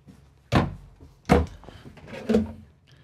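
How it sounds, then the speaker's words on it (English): Three solid thumps a second or so apart, a deep pull-out drawer being pushed shut and pulled open in a 2023 Newmar Dutch Star 4326 motorhome, close by and fairly loud. "And then the rest of these are deep pull-out drawers."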